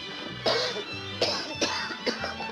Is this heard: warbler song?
no